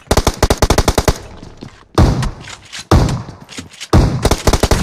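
Rapid automatic gunfire from PUBG Mobile, a loud burst of closely spaced shots followed by heavy single blasts with decaying echoes, all close and dominating, with no talk over it.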